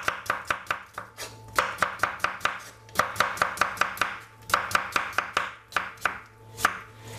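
A knife chops cucumber on a cutting board in quick bursts of sharp, evenly spaced knocks, pausing briefly between runs. The chopping sounds close and loud, with no voices.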